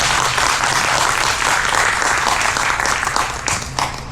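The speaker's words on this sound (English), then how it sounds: "let's just give a round of applause to Jules." Audience at an NC Triangle tech meetup event in Charlotte breaks into steady, full applause, dense clapping sustained throughout before tapering slightly near the end.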